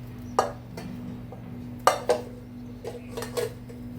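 Cooked chana dal puran is pressed through a sieve, giving a handful of sharp metallic clinks and scrapes at irregular intervals, close by, over a low steady hum with no talk.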